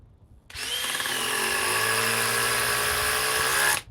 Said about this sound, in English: Okay, now the DeWalt hydraulic.